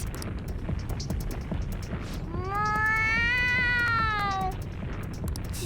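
Cat meowing in the video game Persona 5 Royal, one drawn-out wavering meow rising and then falling, clear and close over steady background game music with light ticking.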